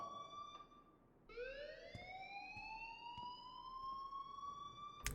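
A school alarm in the Life is Strange video game wails steadily: a loud, rising electronic siren tone that sweeps upward and holds, with faint sharp clicks over it and no talking.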